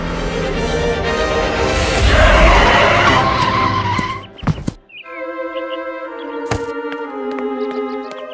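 Cartoon car brakes hard in a long, loud tire-screeching skid lasting several seconds, ending in a sharp thud before quieter tonal sounds follow.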